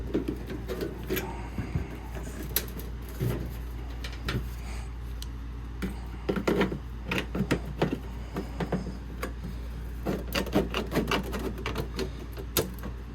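Sheet metal for a custom box downspout being cut with hand snips, giving irregular sharp clicks and crunchy snips close by over a low steady hum, some in quick clusters, with no talking.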